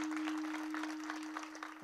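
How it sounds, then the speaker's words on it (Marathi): An audience claps at a kirtan in Yedur, a soft, dense patter of many hands that carries on steadily for a couple of seconds over a faint constant hum. "एकदा जोरदार टाळ्या वाजवा यांच्या सगळ्यासाठी"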